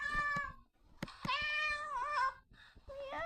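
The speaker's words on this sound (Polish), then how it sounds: "Kotek." A kitten meows several times in quick succession, loud and close, with short pauses between the high, wavering calls and no talking.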